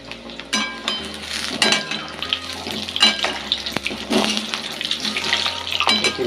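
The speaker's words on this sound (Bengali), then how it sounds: "আলু দিয়ে দিয়েছি, আলুটা ভেজে নেব।" Potatoes frying in hot oil in a wok, with a busy, crackling sizzle that surges and ebbs, plus scattered clinks and scrapes of a utensil, loud and close with no talk.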